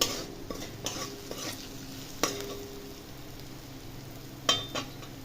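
Chaat masala being stirred through a frying pan on the stove, with a low sizzle running underneath and a few sharp scrapes and taps of the spoon against the pan at irregular intervals. No one speaks.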